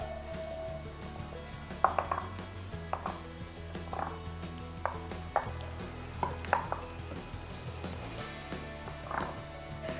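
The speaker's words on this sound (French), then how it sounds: "Et vous mélangez le tout." Ingredients for a quick vegan lasagna being stirred together in a bowl, with light scattered clinks and taps of a utensil against the dish, fairly close and without talk.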